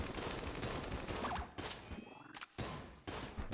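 Rapid automatic gunfire bursts from a gun in a roguelike video game, a dense fusillade of shots in several clusters separated by brief pauses, with no talk.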